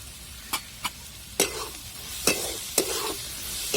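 Onion and poha fry in a pan under a soft, steady sizzle, while a spatula scrapes and taps against the metal in several separate close strokes.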